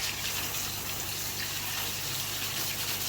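Water gushes steadily from a garden hose during a cleaning job, a continuous broadband rush with a low mechanical hum beneath it, close and even throughout with no talking.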